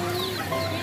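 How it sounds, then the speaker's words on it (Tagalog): Short burst of chirping and clucking lovebirds amid a busy, noisy fiesta background, bright calls layered close together. "Ay, may ibon."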